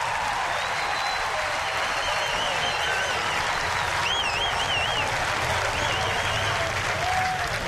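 Visiting Cardinals fans cheer and applaud at a Miami baseball game after a leadoff triple, a steady, dense crowd roar holding at full level throughout with whistles cutting through.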